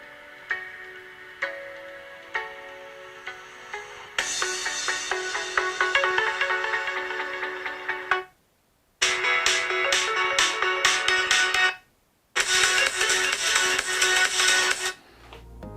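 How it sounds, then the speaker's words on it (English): A song plays through a Google Pixel 3 phone speaker at full volume, with two short silent gaps partway through; tinny melodic music, no talking. "let's play a quick song just to see how the audio plays back on this"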